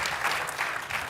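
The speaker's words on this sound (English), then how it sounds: "please let's give them another round of applause" An audience at a Korea-U.S. alliance peace conference applauds after a session, a dense, steady patter of many hands clapping at moderate volume with no pause.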